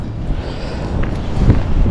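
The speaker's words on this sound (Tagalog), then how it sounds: "ang lakas ng hangin malakas ang hangin" Strong cold wind buffets the microphone outdoors, a steady low rumbling roar with gusty swells throughout, loud and close, with no voices.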